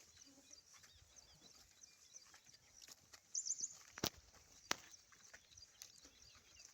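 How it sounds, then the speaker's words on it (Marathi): Faint birds call out on a farm against a quiet outdoor background, with a short burst of chirps midway and a few sharp clucking notes after it. "पक्ष्यांचं संगीत."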